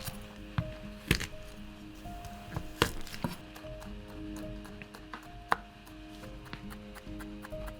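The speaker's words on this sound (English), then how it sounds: "We will mince 2 garlic." Knife mincing garlic cloves on a cutting board for a vegetable egg scramble, with scattered sharp chopping taps at close range over quiet background music and a steady hum.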